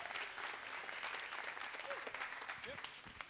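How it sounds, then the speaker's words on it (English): Audience applause at a camp presentation session, a burst of clapping from a small crowd with some voices mixed in. "A big applause for them."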